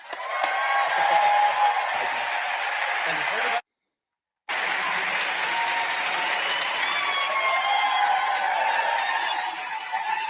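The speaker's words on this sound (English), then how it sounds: "I don't want to hear them clapping." A large crowd welcoming California Governor Gavin Newsom at an event in Atlanta gives loud, sustained applause with cheering and laughter, broken by a brief silent gap before the clapping resumes just as strongly.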